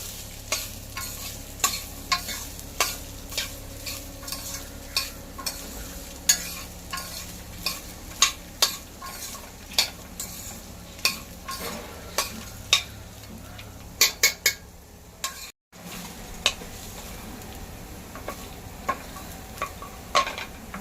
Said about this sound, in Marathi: तुपात आपण आता हे दोन दोन मिनटं जरा परतून घेऊया